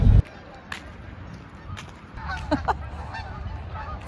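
Several goose honks ring out in the middle distance, a few sharp calls over steady outdoor ambience with faint low rumble.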